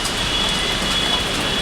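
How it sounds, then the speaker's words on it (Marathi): Rain falls outdoors in Mazgaon, Mumbai, a steady, even hiss of drops with no voices. "हा बघा पाऊस बघा तिथे."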